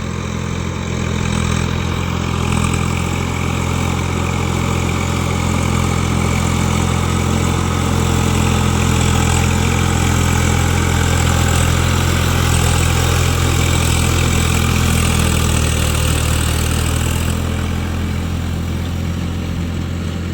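A tractor engine runs steadily and loudly in a muddy rice paddy field, with its tyres half sunk in the mud. The deep rumble holds a constant idle-like drone throughout, with no voices.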